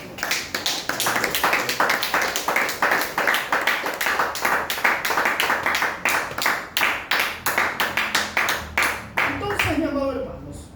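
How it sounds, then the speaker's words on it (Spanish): A church congregation claps in a fast, even rhythm during a Spanish-language service, with loud repeated beats that keep going and fade out near the end. "Del aplauso al Señor."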